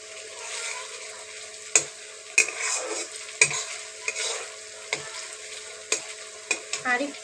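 Eggplant fries and is stirred in a pan, giving a steady sizzle with sharp spatula scrapes and clacks at irregular intervals, close and clear with no voices.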